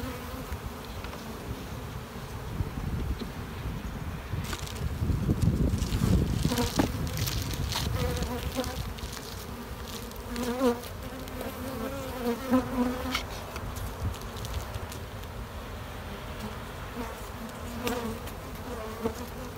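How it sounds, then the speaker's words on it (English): Honey bees in an expanded hive packed with new comb, humming in a dense, continuous buzz close by, swelling louder for a few seconds midway, with no talking. "Certainly, absolutely full of bees."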